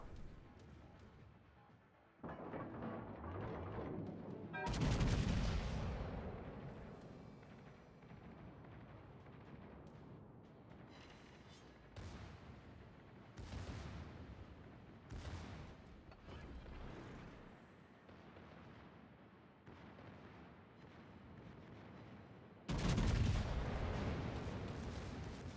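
Warship guns fire in World of Warships, heavy booming salvos spaced irregularly over a low rumbling sea-battle background, with several loud close blasts and fainter distant shots.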